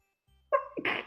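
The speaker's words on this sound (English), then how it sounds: "Sorry, sneezed." A single close, loud human sneeze, a short indrawn breath followed by a sharp explosive burst, alone in a quiet room.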